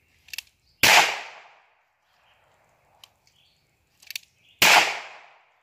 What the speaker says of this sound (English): next we'll try some cowboy action shooting since it's a cowboy gun.